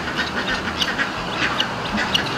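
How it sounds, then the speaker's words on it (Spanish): Guinea fowl of all ages, from young birds to adults, calling at a family farm: repeated short harsh cries in an irregular rhythm over a steady noisy outdoor background, moderately loud and without talk. "Hay gallinas guineas de toda edad, desde pequeñas hasta adultas"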